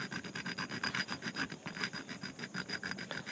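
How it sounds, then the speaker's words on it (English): Rhythmic rasping as a metal furniture fitting is scraped to check for brass, quick back-and-forth strokes, close and fairly quiet, with no voices. "I'm scraping this off on the side"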